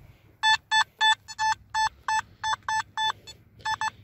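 A metal detector pinpointer held over a dug soil plug gives about a dozen loud, sharp electronic beeps in quick, slightly uneven succession, with a short gap near the end before two final beeps.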